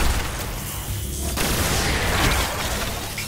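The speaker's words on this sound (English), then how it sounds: "Fusion rifle time!" Fusion rifle firing in the Destiny video game, a loud dense burst of booming, crackling energy blasts that sustains across the whole moment with no pause.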